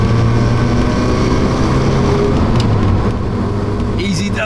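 A rebuilt Mk2 VW Golf GTI engine pulls on a test drive, a steady droning hum with layered engine tones that rise slightly, heard from inside the car with road and wind noise throughout.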